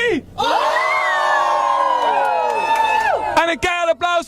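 An audience at the Kunstbende Limburg talent contest final joins in a crowd wave, producing a loud, sustained chorus of rising and falling whoops and yells from many voices, followed by scattered shouts.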